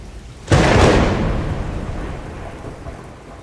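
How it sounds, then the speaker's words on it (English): A severe tropical downpour in the Amazon brings a sudden loud thunderclap that rolls into a long fading rumble over steady heavy rain. "Suddenly, a severe tropical downpour threatens everything."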